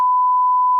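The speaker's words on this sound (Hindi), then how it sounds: "बीप बीप बीप, मैंने गालियां दे दी ऑलरेडी" Censor beep laid over swearing in a conversation about a tyre puncture on Karachi roads: a single steady pure tone held for nearly a second, loud and alone.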